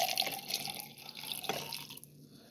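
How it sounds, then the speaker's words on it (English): Milk, about 8 ounces, pours into a cup as a continuous close liquid stream with a few drip-like splashes, running steadily for a couple of seconds before tapering off. "Go ahead and dump that 8 ounces of milk"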